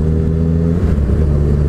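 A Honda CBX 1050 motorcycle with an inline six-cylinder engine runs loud and close, a smooth, steady high-pitched engine howl that holds level without pause.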